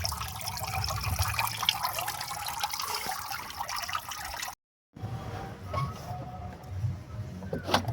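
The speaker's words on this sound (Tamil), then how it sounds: "நம்ம பிளான் பண்ணபடியே ரெண்டு பக்கத்தில் இருந்தும் அப்படி தண்ணி சூப்பராக வருது" Water pours steadily from both sides of a homemade aquarium top filter, a continuous splashing trickle close by that cuts out for a moment and then resumes at a lower level.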